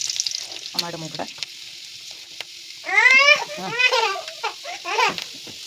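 Sliced onions frying in a pan for roasted-coconut sambar give a soft sizzle throughout, while a small child babbles and laughs nearby in short bursts.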